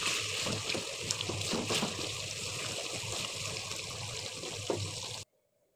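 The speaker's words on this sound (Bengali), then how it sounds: "এখন একটু গোলাপ জল আর কেওড়া জল দিয়ে দিলাম ফ্লেভারের জন্য" Rose water and kewra water poured into a chicken roast cooking in a pan, a steady trickling, splashing liquid over a sizzling background that continues close and fairly loud for about five seconds, then stops abruptly.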